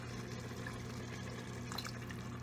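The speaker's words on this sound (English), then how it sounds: "So I'm going to add a little bit more water." Water being poured into a pot of pasta with peas, a steady, faint gurgling stream with a constant low hum underneath and no talk.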